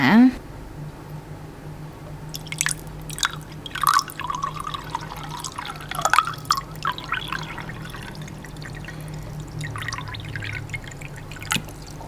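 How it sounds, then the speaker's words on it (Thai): Mountain spring water poured into a glass, giving light trickling and dripping sounds with clinking glassy tones, close and fairly quiet, while someone talks over it. "ตอนนี้เราจะมาลินน้ำภูเขาลงแก้วกันนะคะ"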